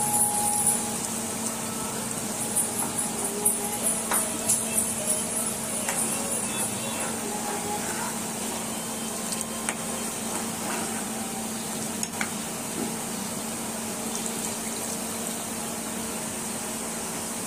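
Hot tempering with asafoetida (hing) hisses into a pot of simmering kadhi, a steady low sizzle and bubbling that runs throughout with faint clinks, with no one speaking.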